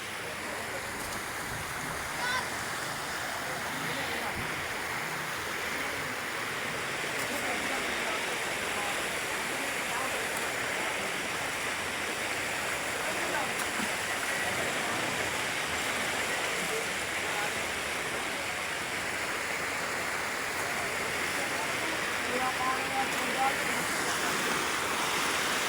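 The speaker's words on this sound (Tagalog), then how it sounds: "Ayan na, nag-iipon na naman ang lakas yung ulan." Heavy rain pours in a steady, dense roar during a dark storm near a river, continuous and unbroken, with faint gusts mixed in.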